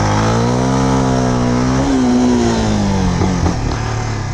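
A Honda CB Twister motorcycle engine revs up loud and close, its droning pitch climbing steadily, then dipping and wavering as the throttle eases, with no talk over it.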